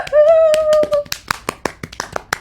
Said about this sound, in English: Clapping for myself